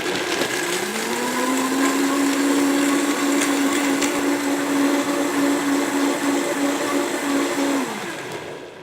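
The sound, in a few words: blender chopping chia pudding ingredients on high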